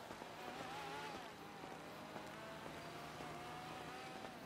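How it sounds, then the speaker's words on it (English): Faint engine hum of a car going by in the open-world game GTA 5 roleplay, a smooth low drone with a gentle pitch sweep, distant and quiet under steady background noise. "I just heard a car pass."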